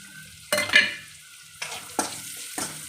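Grated coconut frying with onions in a pan for horse gram sambar, a quiet background sizzle broken by four sharp scraping stirs of a spatula against the pan, close and loud.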